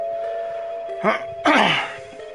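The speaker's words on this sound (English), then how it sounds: "Even the little chime it made when pressed sounded elegant." An intercom button at a gate in the video game 428: Shibuya Scramble gives a short two-tone electronic chime, clean and bright over a quiet hum, with a fainter first tone and a louder second.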